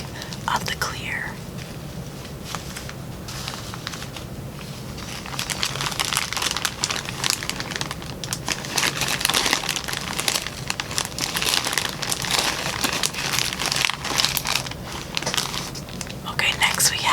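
Clear plastic bags of sewing supplies crinkle and rustle close up as they are unpacked, in bursts of crackling under a soft, whispery voice.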